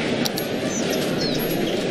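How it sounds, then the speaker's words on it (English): Steady city street traffic noise from a Cities: Skylines town, a dense continuous rumble and hiss of flowing cars with faint chirps and small tonal blips on top, no voices. "Listen to that street noise."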